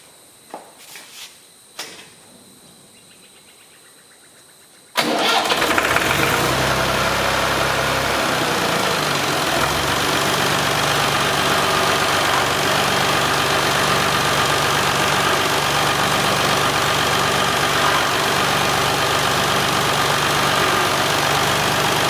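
A Massey Ferguson MF20 tractor engine: a few clunks and clicks in quiet, then the engine catches abruptly and settles into a loud, steady, close diesel-like idle that runs on unchanged for the rest of the time.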